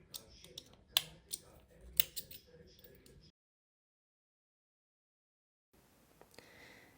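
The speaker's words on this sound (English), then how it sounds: "Now that the brown yarn is attached, I can cut the beige yarn." Scissors snip through beige yarn during a crochet project, a few sharp close clicks and cuts in quick succession, then a stretch of near silence and faint handling noise.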